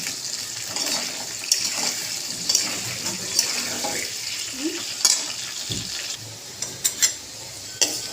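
Potatoes with turmeric frying in hot oil in a pan, a steady broadband sizzle running throughout with several sharp scrapes and clicks of stirring scattered over it, fairly close and moderately loud.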